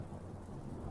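Distant thunder rolling low over highlands in a drizzling rain, a steady dull rumble with soft rain hiss throughout the short stretch.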